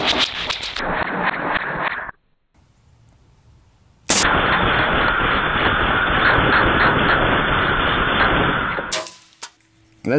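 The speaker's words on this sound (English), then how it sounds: "We're gonna try a few different configurations with some full auto fire, 37 yards." Hatsan Blitz .22 air rifle firing full auto at 37 yards, one dense rapid burst of shots emptying the magazine, loud and close, then a pause and a second longer sustained burst of roughly five seconds, ending abruptly.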